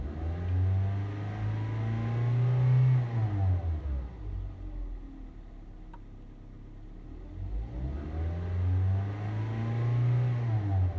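A car engine held at a steady fast idle near 3,500 rpm, with a tachometer gauge connected, drones on its own; the hum swells, dips in the middle, then rises again without any voices.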